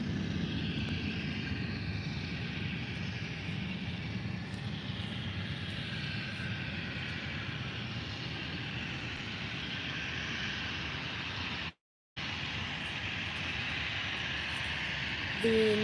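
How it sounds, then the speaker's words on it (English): Volotea Airbus A320 jet engines idle at Faro airport after pushback, a steady distant roar with a faint whine and a brief gap near the end. "Volotea A320 to Lyon just pushed back and will start its taxi in just a couple of minutes"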